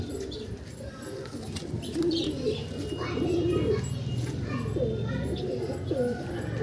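Andhra pigeons coo in a close, soft series of throaty, rolling calls that repeat over a low background, with a few light chirps and faint voices in the mix.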